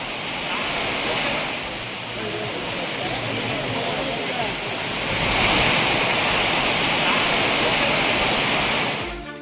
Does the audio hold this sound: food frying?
no